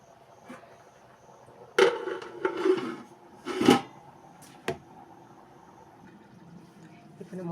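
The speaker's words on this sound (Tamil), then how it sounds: "கலந்து விட்டுட்டு நல்லா மூடி வச்சுருங்க." A metal pot of chicken biryani is stirred and covered, with a few scraping clatters and a clanking lid knock, closely miked and separated by quiet gaps.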